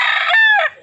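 A quarter-Peruvian stag, eight months old, lets out one loud, close crow, a short strained cock-a-doodle-doo under a second long with no voices over it.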